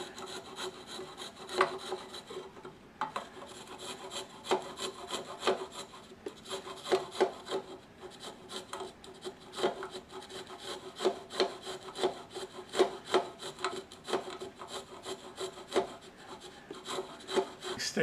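A sandpaper stick, made of sandpaper glued to a craft stick, scrubs inside a turned wooden hollowform, producing a close, rhythmic rasping with quick repeated strokes and no talk.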